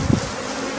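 Honey bees buzz around an open hive during a honey harvest, a continuous close hum that swells briefly at the start.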